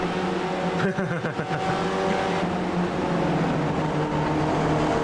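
Spec Racer Ford race cars in the iRacing video game at Lime Rock Park, engines droning loudly and continuously as the pack runs in traffic, with a brief dip and shift in pitch early on.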